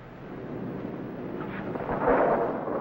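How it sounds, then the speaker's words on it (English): Thunder from an approaching storm rumbles low and steady throughout, swelling slightly louder near the end, with no voices. "Seems to be a storm coming out."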